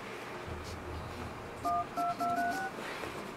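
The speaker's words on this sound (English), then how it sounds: "dialing in a number," DTMF keypad tones from an Ainol Note 9 Spark 3G tablet dialing a number: four or five short beeps in quick succession, clear over a faint background hiss.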